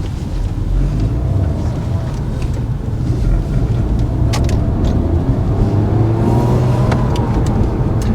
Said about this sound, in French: La mélodie du flat 6, c'est quand même quelque chose.